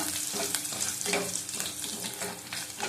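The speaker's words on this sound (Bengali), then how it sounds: "মেথি দানা দিয়ে দিলাম বেশি ভাজবো না" Fenugreek seeds fry in hot oil with chopped garlic, giving a close, steady sizzling crackle with faint stirring scrapes, continuous and fairly quiet.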